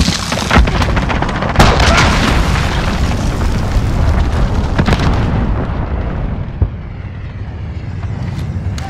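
A cruise missile explodes in Call of Duty: Modern Warfare: a loud, deep, rumbling blast with sharp cracks of gunfire in the opening seconds, then a long roaring decay that slowly fades.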